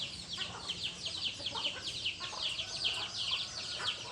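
Dwarf-breed chickens cluck and chirp in a busy flock, many overlapping short calls close by and continuous throughout, with no talking.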